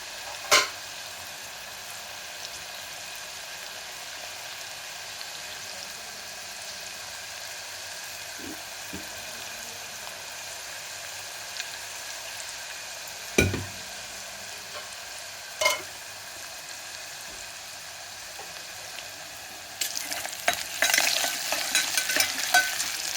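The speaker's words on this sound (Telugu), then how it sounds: "ఉల్లిపాయలు వేగాయండి." Onions fry quietly in a pan for a mutton aloo kurma, a faint steady sizzle broken by a few isolated spoon knocks, then a busier stretch of rapid stirring and clatter near the end.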